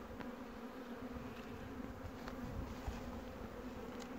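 Honey bees buzzing around an open feeding spot outdoors, a dense, steady drone of many wings with occasional nearer passes, moderately quiet and continuous.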